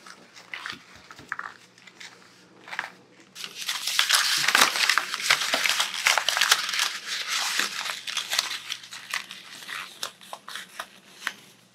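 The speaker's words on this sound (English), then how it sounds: "crumpling the paper up" Sheets of paper are crumpled up by hand close by, bursts of crinkling and crunching that build into a long, dense stretch of rustling.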